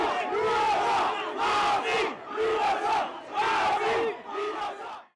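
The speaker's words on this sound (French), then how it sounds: "Sur fond de bousculades et d'injures, la foule scande « Pravin nous fichait Premier ministre »" Crowd outside a court chanting a rhythmic slogan in repeated loud surges amid scuffles and insults, massed voices rising and falling in regular phrases, about four chants in a row, close and heated.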